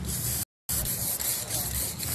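Pilox Samurai aerosol spray paint can hissing steadily from the nozzle, loud and close, with a brief cut partway through and a sustained spray sweeping side to side.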